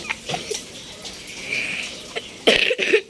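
A couple of short, harsh coughs near the end, after a stretch of quiet outdoor background noise.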